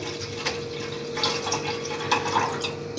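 Milk from a 1 kg packet poured into a cooking pot for sheer khurma, a soft steady liquid trickle and splash with faint background hum, no one talking.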